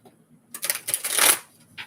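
A deck of tarot cards is riffled and shuffled close by, a quick crisp burst of flapping cards lasting about a second, then a short final shuffle, with quiet surroundings.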